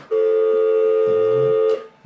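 A single sustained electronic phone tone, steady and loud for almost two seconds, with faint room noise beneath it and no speech.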